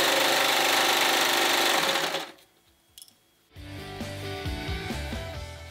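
A sewing machine top-stitches stretched elastic and fabric on a child's sleeve, giving a loud, close, steady whir that stops partway through, then starts up again and runs on.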